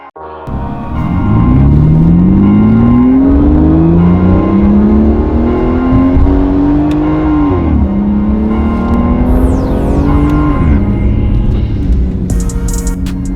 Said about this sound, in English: The Aston with its V12 is incredibly loud when you put your foot on it.